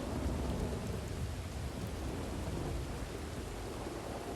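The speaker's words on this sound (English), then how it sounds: "That rain definitely picked up a bit." Heavy rain with rolling thunder in the video game Red Dead Redemption II: a dense, constant downpour with low rumbles underneath, steady and enveloping, without talk.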